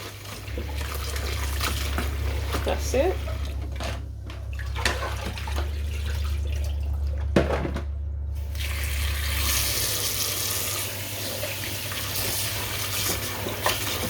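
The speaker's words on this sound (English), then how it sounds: "I'm going to be washing off the excess salt." Cold tap water runs steadily over salted codfish as it is washed in a kitchen sink, a continuous close splashing hiss with occasional sloshes and brief gaps, and a voice speaks briefly.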